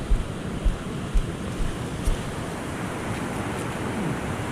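Surf washes in steadily at a river jetty beach on the Siuslaw River north jetty in Oregon, with incoming water rushing up the sand and gusts of wind buffeting the microphone throughout.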